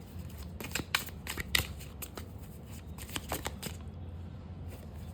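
Tarot cards are shuffled and drawn by hand, giving a run of crisp, close riffling flicks and slaps that come in quick bursts and then thin out into a quieter stretch near the end, with no talking.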